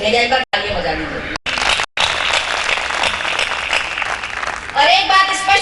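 At a women poets' gathering in Surat, the audience breaks into loud, dense applause that holds steady for several seconds, with brief cuts early on and voices rising again at the end.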